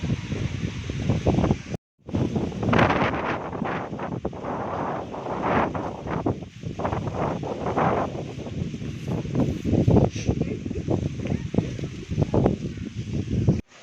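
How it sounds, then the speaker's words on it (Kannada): Strong wind before rain gusts outdoors around a house, roaring steadily and buffeting the microphone with loud rushing noise and rustling, briefly cut off near the start. "ಇವಾಗ ಮಳೆ ಬರೋ ಹಾಗಿದೆ, ಹಾಗಾಗಿ ಪೂರ್ತಿ ಜೋರಾಗಿ ಗಾಳಿ ಬೀಸ್ತಿದೆ"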